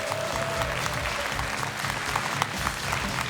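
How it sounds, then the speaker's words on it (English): Audience applauding at an esports tournament, a World of Tanks Continental Rumble semifinal, with steady, dense clapping from a large crowd sustained throughout. "One more round of applause for NaVi."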